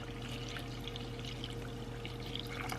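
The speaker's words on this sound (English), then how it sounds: "I am going to add my milk" Milk pouring into a bowl of pudding mix, a faint steady liquid stream over a constant low background hum, close by and without talk.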